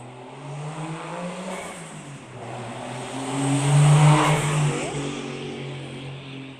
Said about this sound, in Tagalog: Ang ingay na sakyan.